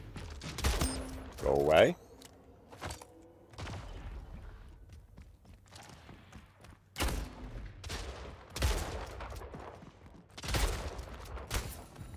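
Gunfire in the arena shooter Splitgate, scattered sharp shots and bursts spaced across the stretch, with a brief spoken line near the start.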